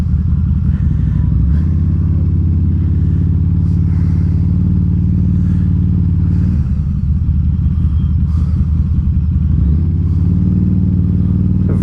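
A 2012 Harley-Davidson V-Rod Muscle motorcycle being ridden through traffic, its engine a loud, continuous deep rumble close by, with the pitch shifting a few times as the throttle changes.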